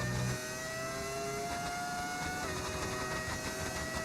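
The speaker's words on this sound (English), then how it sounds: "Sounds like a V10. Yes, we are running a V10 engine." A V10 racing car engine in the F1 25 video game holds a steady, high-pitched whine with shifting tones and a gear change midway, heard alone without talk.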